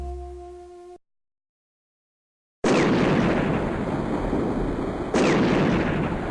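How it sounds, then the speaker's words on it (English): Heavy guns fire in a comedy war scene, a short tone fading into silence before a sudden loud, sustained roaring blast, then a second booming burst, close and overwhelming. "It's those guns, Commander. They sound like a volcano and they kill people."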